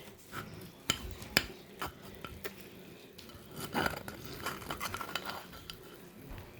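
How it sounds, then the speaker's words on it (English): A knife slices into cooked sausage on a board in a home kitchen. There are a few faint, sharp clicks and scrapes of the blade, spaced irregularly and fairly close. "The turkey meatloaf and the sausage are finished, so I'm going to cut into the sausage"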